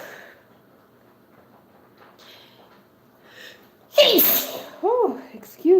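After a quiet stretch with faint murmuring, one loud sneeze bursts out, followed by a voice exclaiming.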